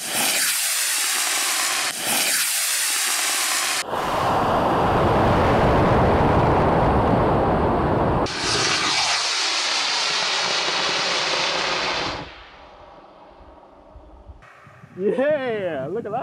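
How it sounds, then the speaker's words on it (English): A model rocket plane lifts off on two D-size rocket motors, a loud sustained roaring hiss broken by short gaps and bursts across several seconds, then dropping away to quiet near the end as a voice speaks briefly. "see how it would fly with just two D-sized rocket motors"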